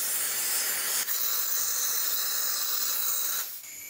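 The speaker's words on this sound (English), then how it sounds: "the one-way valve isn't even working properly on it because air is still getting through" Air hisses steadily through a one-way valve installed backwards, a loud continuous close-up rush that cuts off briefly near the start and drops away at the end.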